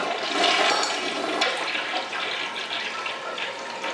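A household toilet flushes in a steady broadband rush of water draining from the tank, loud and close, lasting the whole few seconds with no talking.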